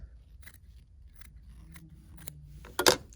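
Scissors trimming fabric during a sewing project, with a few faint snips early on and a louder, sharp cutting burst near the end, close by and without talk.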